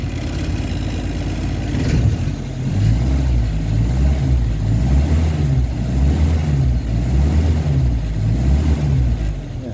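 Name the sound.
overhauled Toyota 3A-U engine test run revving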